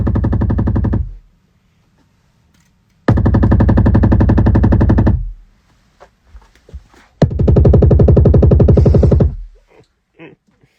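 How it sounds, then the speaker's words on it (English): A drum kit fed through an arpeggiator fires rapid, evenly spaced repeats like machine-gun bursts. Three loud, sustained rattling bursts are split by short silences, with a few scattered hits between them. "So it kind of made this machine gun sound."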